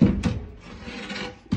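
A cabinet door in a tool trailer setup is opened, giving a few short woody knocks and a soft rubbing scrape, close and fairly quiet.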